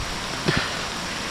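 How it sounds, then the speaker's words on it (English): Heavy rain pours down during a hike in a thunderstorm, a dense, loud and unbroken roar of falling water with no voices. "just wait this crazy rain out"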